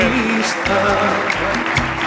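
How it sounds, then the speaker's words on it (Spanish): Studio audience applauds at the close of a Spanish comedy talk show, a dense, steady wash of clapping throughout with some low voices underneath. "Un aplauso para Alejandro"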